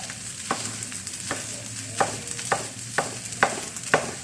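Egg being stir-fried into fried rice, with a steady sizzle beneath sharp, evenly spaced spatula scrapes against the pan, about eight strokes, close and fairly loud with no talking.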